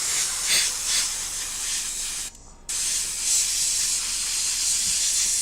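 An airbrush sprays paint onto miniatures, making a steady close breathy hiss that cuts off briefly midway and then resumes just as before.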